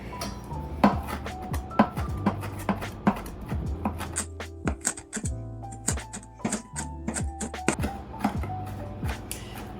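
Knife chopping fresh thyme stems and leaves on a cutting board, a quick irregular run of sharp close knocks and taps with clinking kitchen clatter between, no voices.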